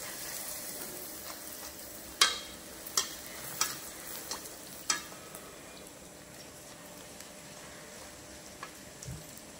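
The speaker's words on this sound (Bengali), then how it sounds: "ঠিক একইভাবে বেলে আমরা ভটুরেগুলো ভেজে নেব।" Rolled bhaturas deep-fry in hot oil, making a continuous bubbling hiss. A quick run of sharp clicks and taps from a utensil against the pan is heard early on, then the frying carries on alone.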